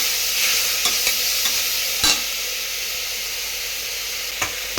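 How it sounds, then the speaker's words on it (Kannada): Tomato sizzling with coarsely ground ginger, garlic and green chilli paste in a pressure cooker, a steady close frying hiss with occasional stirring scrapes and clinks, no voices. "ಟೊಮೆಟೊ ಒಂದು ಹಾಕ್ಕೊಂಡಿದ್ದೀನಿ"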